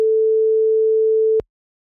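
A French telephone ringback tone on an outgoing call, one long steady beep that cuts off abruptly into silence.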